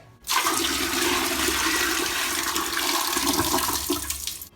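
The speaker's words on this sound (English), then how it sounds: "That bucket will be for flushing the toilet. And pour it down there in just a second." A sudden rush of water poured from a bucket pours and gurgles into a toilet bowl, loud and close, lasting a few seconds before stopping.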